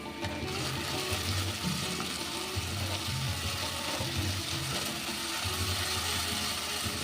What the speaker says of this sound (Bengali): পেঁয়াজটা হালকা ভাজা হয়ে গেছে এবার দিয়ে দিলাম এই মশলাটা